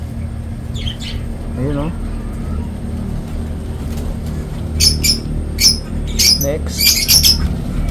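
Lovebirds in a nest box let out a rapid series of shrill, harsh squawks in the second half, close by, after a stretch of quieter chirps and a person speaking briefly over steady background hum.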